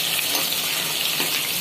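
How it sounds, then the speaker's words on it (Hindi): Chopped onions, green chillies, garlic and ginger fry in a pan for mushroom biryani, an even, dense hissing sizzle heard up close without a break. "प्याज को अच्छे से फ्राई होने देंगे, हल्का ब्राउन होने देंगे इसको"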